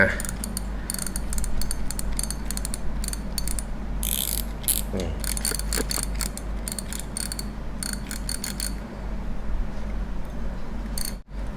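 A Daiwa Revros LT spinning reel's adjusted clicker ratchets in rapid bursts of sharp metallic clicks, stopping and starting irregularly over a steady low hum.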